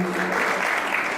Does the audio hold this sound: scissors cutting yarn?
no